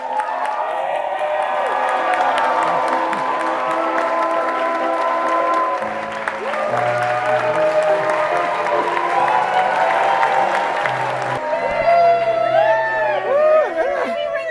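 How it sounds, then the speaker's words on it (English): Wedding guests applauding newly married Josh and Destiny Asuncion, sustained clapping and cheering from a crowd with a few whoops, under a swell of background music, continuing loud and steady throughout. "Let's give them their heartfelt applause."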